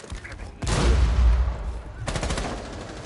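Bursts of rapid gunfire from a shotgun in a tactical shooter video game, two loud close volleys separated by a short gap, with a caster's voice faintly underneath.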